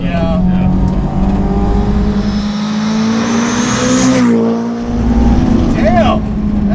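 A 385 WHP supercharged Honda S2000 track car on Maxxis RC1 tires accelerating hard on a bumpy road, its loud engine tone climbing through the revs, dipping briefly at a shift, then pulling again, with a voice over the engine noise.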